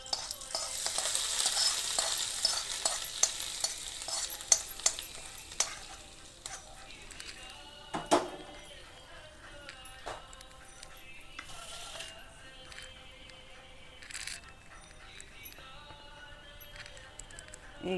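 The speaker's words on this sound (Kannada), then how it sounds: "ಈಗ ನೋಡಿರಿ ಇದಕ್ಕೆ ಹಾಕಿಬಿಡ್ತೇನೆ ಒಗ್ಗರಣೆ" Mustard seeds and curry leaves crackling in hot oil for a ridge gourd chutney tempering, a busy sizzle with sharp pops and a few stirring clinks, loudest early and settling into a steady frying hiss.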